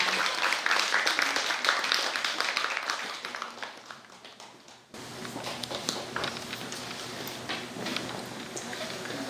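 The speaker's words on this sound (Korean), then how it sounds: "여러분 뜨거운 박수 부탁드립니다." Audience applause at a Buddhist book-publication dharma ceremony welcoming a senior monk; moderately faint, scattered clapping that fades out, briefly drops, then resumes as a softer, steady patter.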